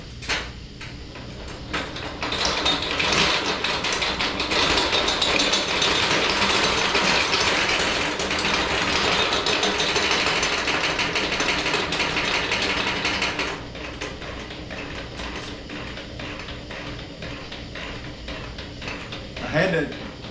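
A hand-cranked honey extractor spins frames of raw honey, giving a loud continuous ratcheting, gear-whirring mechanical rattle for about eleven seconds before dropping to a quieter rumble and faint clicks.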